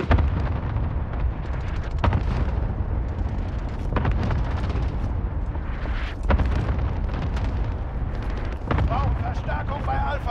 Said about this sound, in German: Verbündeter Clusterschlag.